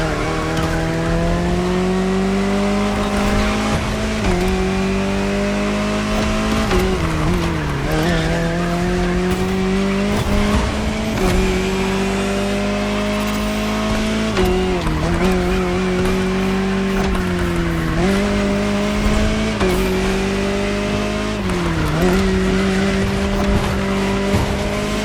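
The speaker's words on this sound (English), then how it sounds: "Jaguar CX-75 concept." Jaguar CX-75 concept car driving in the racing game Motorfest, a loud sustained engine drone that rises and dips with gear shifts and throttle changes, with occasional tire squeal.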